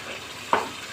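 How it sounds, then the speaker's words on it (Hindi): Spice masala for chana biryani roasting in oil in a pan hisses with a low, even sizzle, broken once by a short stir or scrape midway, without any voices. "चने की बिरयानी का मसाला जो है ज़बरदस्त सा भुन रहा है"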